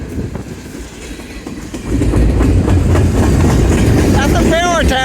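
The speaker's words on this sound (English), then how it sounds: "That's literally a military train." A single-stack intermodal military freight train carrying ammunition passes close by, its loud rumble swelling into rhythmic wheel clatter with a brief wheel squeal near the end.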